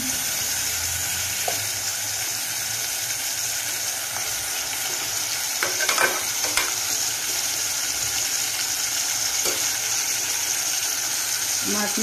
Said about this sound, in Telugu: ఇందులో ఇప్పుడైతే కడిగి పెట్టుకున్న మటన్ అయితే వేసుకుందాం.